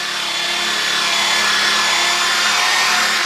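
A Flitz buffing ball spins against the exhaust of a 1977 Yamaha RD400 during a restoration, giving a steady, loud broadband whirring rub that holds without a break for a few seconds.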